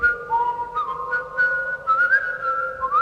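A person whistles a short, lilting tune, clear sliding notes over a steady backing tone, close and alone without talk.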